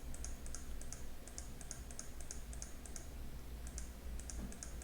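Steady keystrokes on a computer keyboard while a Python calculator program is written, tapping in quick regular runs with short pauses, fairly faint over a low constant room hum.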